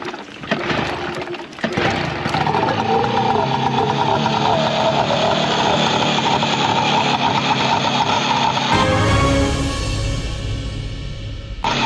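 A salt-flushed outboard boat engine cranks with a couple of brief bursts, then catches and runs at a steady loud idle, with a sharp shift in tone near the end.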